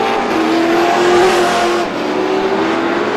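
Stock cars roar around a speedway in a 100-lap race, engines droning loud and steady with a rising and falling pitch as cars pass.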